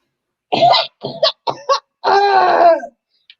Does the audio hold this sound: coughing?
yes